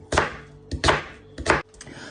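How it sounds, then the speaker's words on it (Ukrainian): Three sharp knife chops strike a cutting board as onion is cut into pieces, in a slow, uneven rhythm, close and distinct with brief pauses between. "Цибулю також нарізаємо, як бажаємо, як любимо."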